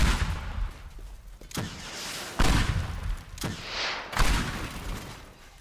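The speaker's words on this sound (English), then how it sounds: "Rocket launcher time." A rocket launcher firing in the destruction game Teardown, several sharp loud launches and blasts spaced about a second apart, each trailing into a rumbling decay.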